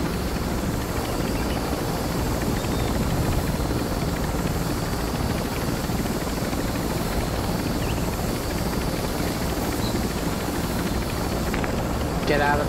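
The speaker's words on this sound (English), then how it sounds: "Get out of the chopper." A helicopter in the video game Warzone 3 keeps up a steady rotor and engine drone throughout, while players talk over it.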